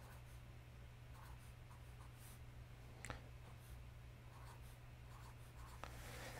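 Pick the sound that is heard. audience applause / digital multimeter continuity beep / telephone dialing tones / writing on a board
writing on a board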